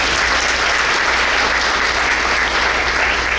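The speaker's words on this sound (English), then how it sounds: "Let's give Jeff Hobbs a round of applause for that." Loud, dense audience applause for Jeff Hobbs fills a district breakfast hall, a steady wash of many hands clapping at once with no voices over it.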